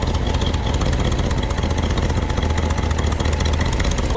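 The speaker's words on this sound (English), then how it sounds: "Now you can really hear the exhaust leak." A 1970 Ford truck engine runs steadily with an exhaust leak, giving a loud, continuous rough rumble with a rapid ticking, puffing texture close by and no voices.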